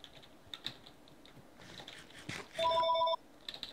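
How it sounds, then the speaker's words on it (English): A telephone rings once with a steady electronic tone lasting about half a second, heard at moderate distance over soft keyboard tapping and room noise. "I heard the phone"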